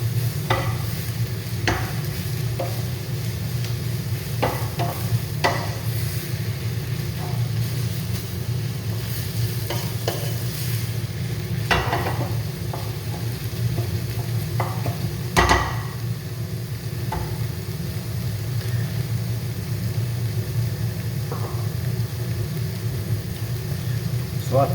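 Onions and garlic fry in a pan with chopped tomatoes, herbs and smoked paprika for a lentil Bolognese, giving a steady low sizzle as a spoon stirs and scrapes now and then, with a few sharp clinks against the pan.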